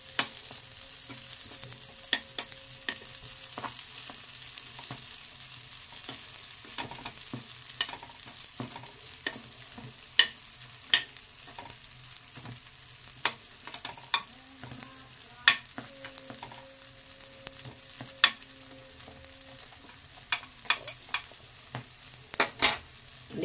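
Litti fry in a pan, giving a soft, steady sizzle with scattered sharp clicks and scrapes of a utensil turning the pieces, faint and close, with no talking.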